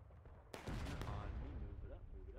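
Musket fire sounds in the War of Rights video game during a large Civil War skirmish: a sharp near shot, then a rolling volley of overlapping distant reports that trails off, with voices underneath.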